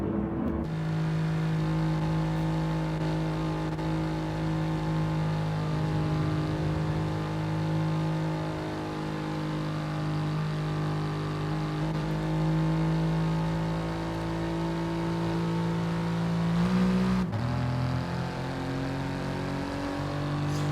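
A racing car runs under safety car conditions at Kyoto Driving Park, its engine droning steadily at a constant pitch for a long stretch, then briefly dipping and rising again near the end.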